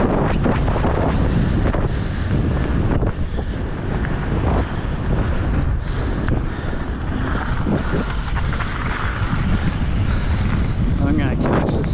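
Strong wind buffets the microphone in a steady loud roar on a Bentonville mountain bike trail, and a voice talks briefly under the rushing gusts.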